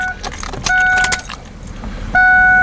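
Car keys jangle close by as they turn in a vehicle's ignition switch, followed by short, steady electronic chime tones that sound twice.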